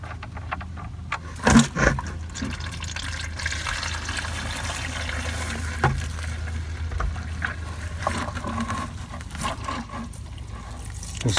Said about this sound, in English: I got this 5-gallon bucket I'm going to slide under it and catch that oil.